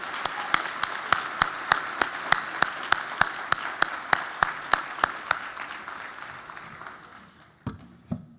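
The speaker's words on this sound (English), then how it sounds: "Let's give him another big round of applause." Applause at a chamber of commerce annual dinner starts with sharp, regular individual claps standing out over the crowd, then thins and fades near the end, leaving a few scattered final claps.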